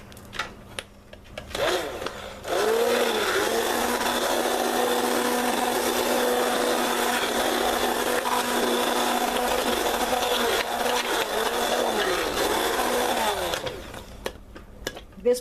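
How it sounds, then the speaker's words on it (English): A blender chops through softened liquid soap paste, a loud steady motor whir that runs continuously for about eleven seconds, starting and stopping abruptly. "Let's see if I can put the blender to it right quick and chop some of this stuff up."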